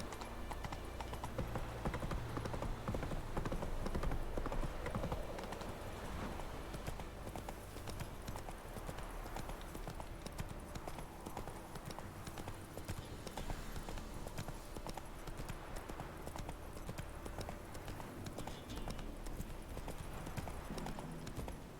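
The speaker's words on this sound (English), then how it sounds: "Run, Roach." A horse gallops in The Witcher 3: Wild Hunt, with a continuous rapid clip-clop of hooves running the whole time at a steady moderate level and no talk.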